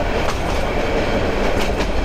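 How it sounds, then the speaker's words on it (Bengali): A local train rolls along rails between tall buildings with steady broadband rumble and faint rhythmic clacks, continuous and fairly loud throughout. "মাঝখান দিয়ে আমাদের ট্রেন যাচ্ছে"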